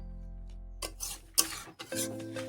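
A spoon scrapes and stirs duck curry frying in a pan, with a few quiet, uneven strokes and soft sizzling after a near-silent start.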